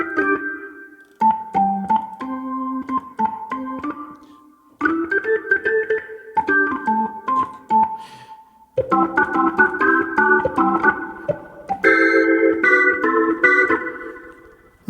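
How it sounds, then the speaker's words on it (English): Nord Electro 6D keyboard played through a Leslie 2101 mk2 rotary speaker with heavy reverb, chords and melodic phrases swirling in rotary motion, loud and close, with brief pauses between passages and no talk. "the reverb tails is also getting swirled around in the rotary motion"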